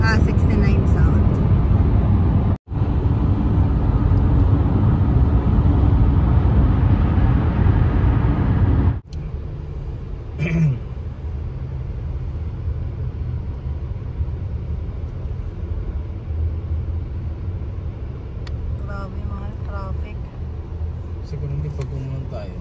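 A car drives on highway US 69 South in heavy traffic, its loud road rumble filling the cabin. The rumble drops to a quieter steady drone partway through, with voices talking inside.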